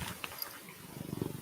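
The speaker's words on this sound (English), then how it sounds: "I don't know if you can hear him purring now." A domestic cat purrs close to the microphone, a low rumbling purr rising and falling in quick pulses, faint and brief.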